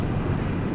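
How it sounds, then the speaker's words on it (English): A grenade launcher round bursts in The Outer Worlds, a loud low rumbling explosion that rolls on briefly and fades, with no voices over it. "And I'm using my hippie grenade launcher."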